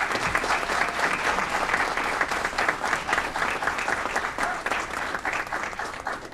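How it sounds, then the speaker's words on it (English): A crowd at a city council meeting applauds steadily for several seconds, a dense, even patter of many hands clapping. "Big round of applause for Jessica Lopez."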